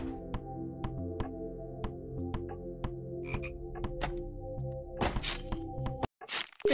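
Frogs croak in the horror video game House, a regular series of sharp repeated croaks over a steady droning game background, followed by a louder burst of clattering noise near the end.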